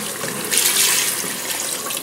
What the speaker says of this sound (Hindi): अब इसमें डालेगी पानी और बनाएगी इसका शोरबा